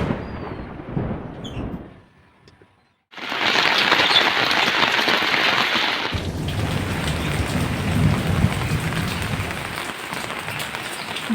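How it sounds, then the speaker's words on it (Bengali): Rain starting to fall outside a home, a brief quiet gap then a sudden loud swell of dense hissing downpour that keeps going steadily, deepening into a heavier rumbling wash after a few seconds. "বৃষ্টি পড়া শুরু হয়ে গেছে"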